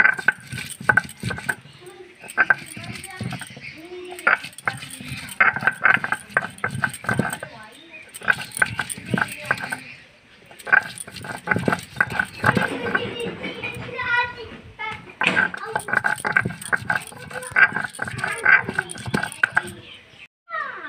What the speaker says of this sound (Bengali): এই যে আমি আদা রসুনটা বেটে নিচ্ছি